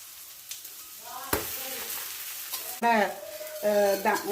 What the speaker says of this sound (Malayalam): ഓക്കെ, നമുക്ക് ദോശ തിരിച്ചിട്ട് കൊടുക്കാം